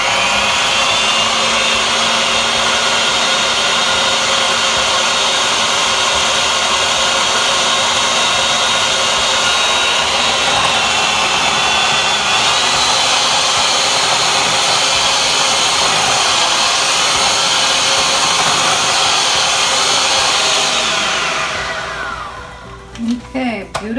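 An electric hand mixer whirs steadily and loudly through waffle batter made with zucchini in place of oil. Its constant motor whine lasts about twenty seconds before winding down and stopping.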